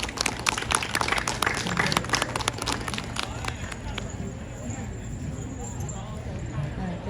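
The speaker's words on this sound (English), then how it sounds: "One more round of applause." Audience applause at a Hmong American Day community event in Fresno, California: dense clapping from a crowd, loud at first and then settling into a steady softer patter, with no talk over it.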